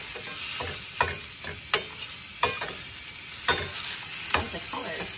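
Spices such as black pepper, paprika and mustard seed being stirred into food in a frying pan: a spoon scrapes the pan in several distinct strokes over a steady, close sizzle.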